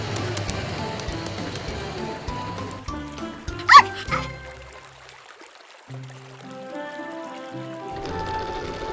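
A cartoon puppy barks sharply once or twice near the middle, loud and close, over a bed of soft music, followed by a quieter yip.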